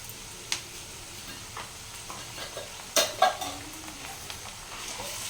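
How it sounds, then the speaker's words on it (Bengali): Ginger, chilli and garlic paste fries in a pan with a soft, steady sizzle, while a spoon scrapes and clinks against the metal in a few scattered knocks, quiet and close with no talking. "এটা একটু ভেজে নেব গন্ধটা যেন আদা রসুনের চলে যায়"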